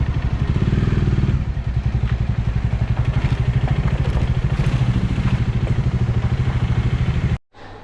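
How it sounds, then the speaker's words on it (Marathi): A motorcycle engine idles close by in a steady, throbbing rumble while the bike is parked near a local Konkan fish market, then cuts off abruptly just before the end. "चला पहिलं तर बाईक लावूया"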